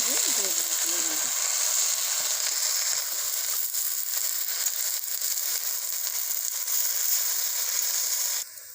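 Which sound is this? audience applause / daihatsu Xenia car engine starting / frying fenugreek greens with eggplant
frying fenugreek greens with eggplant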